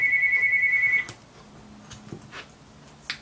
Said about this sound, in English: Excuse my phone ringing, I'm sorry.